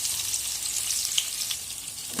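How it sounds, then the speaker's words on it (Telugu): Thinly chopped onions sizzle in hot oil tempering for homemade dum biryani, a steady close frying hiss with faint crackles and no voices. "కట్ చేసిన ఆనియన్స్ని తాలింపులో వేసుకోవాలి."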